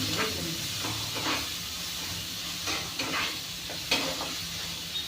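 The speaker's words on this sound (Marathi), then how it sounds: "कांदा छान भाजतोय." Chopped onion sizzles steadily in a hot pan, a continuous close hiss broken by a few soft scrapes and taps of a stirring utensil.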